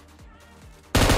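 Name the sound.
sniper gunshot in video game PUBG Mobile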